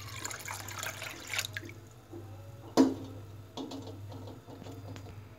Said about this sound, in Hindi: तीनों दालों को वॉश करके भिगो रहे हैं।